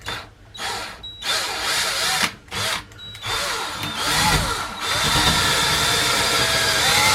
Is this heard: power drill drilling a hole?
yes